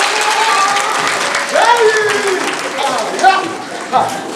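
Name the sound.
children applauding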